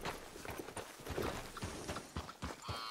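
Horse hooves clip-clopping at a steady walk in the video game Red Dead Redemption 2, a string of close, crisp knocks in an uneven rhythm over a quiet background.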